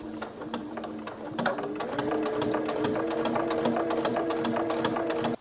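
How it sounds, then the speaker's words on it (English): Domestic sewing machine running steadily as it stitches a quarter-inch seam around a fabric pot holder, a close, continuous whirring hum with rapid needle ticks throughout, no talking. "Then go ahead and stitch 1/4 inch seam all the way around."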